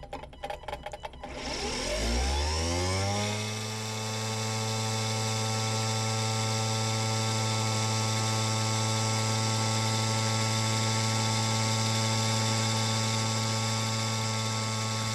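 Homemade 1000-watt electric motor running on a dynamometer: after a few clicks it spins up within about two seconds into a loud, steady, harmonic-rich whine that holds at constant pitch.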